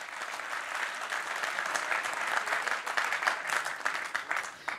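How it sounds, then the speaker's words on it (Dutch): Applause for the nominees at the Leiderdorp entrepreneurs' award ceremony, a dense, steady clapping from a crowd that holds for the full stretch without pause, fairly near and moderately loud. "een applaus voor de genomineerden"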